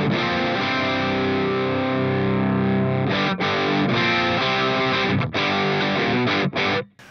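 Heavily distorted electric guitar plays through a Boss Katana amp head with the presence control turned off, loud sustained chords ringing out with a few brief chopped gaps toward the end.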